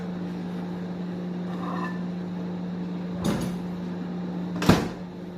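A microwave oven hums steadily after cooking upma, then its door is opened with two distinct clunks, the second louder, as the dish is taken out.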